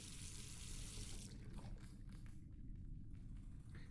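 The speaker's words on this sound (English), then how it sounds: "All that remains is to rinse the plate." Water running and splashing as a photographic plate is rinsed in The Last Door game, a steady rushing flow that tapers off into softer trickles.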